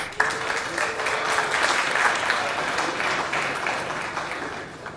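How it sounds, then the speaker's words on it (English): Brief applause from an audience at a college staff recognition presentation, a moderate, even patter of clapping that carries through the whole moment with voices faintly underneath. "Please hold your applause."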